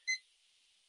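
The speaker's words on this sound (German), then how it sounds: "es piepst bei mir" A single short electronic alarm beep from a device, brief and fairly faint, followed by near silence.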